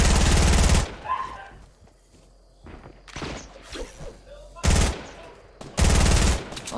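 Rapid automatic gunfire in the video game Fortnite comes in three loud, close bursts: a long opening volley, a short burst near the end, and a final sustained stream of shots, separated by quieter stretches of softer game effects.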